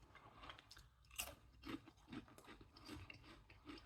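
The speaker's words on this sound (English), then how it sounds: "So you got a really, really nice crunch." Crinkle-cut roast beef and horseradish hand-cooked crisps are crunched close up, a run of irregular crisp bites and chews with crackling snaps, quiet overall.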